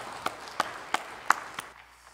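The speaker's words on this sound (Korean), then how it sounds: "영광의 박수를 하나님께 드리겠습니다" A church congregation gives a short, sparse round of applause: about five distinct claps in a steady rhythm, faint and tapering off into quiet.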